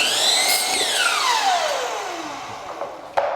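A power saw cuts closet shelving return pieces. Its motor whines high and then winds down in pitch over about two seconds, and a short knock follows near the end.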